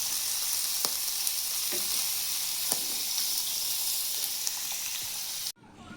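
Fish frying in oil on a small tawa gives a steady, close sizzle with a few soft crackles and pops, then cuts off abruptly near the end.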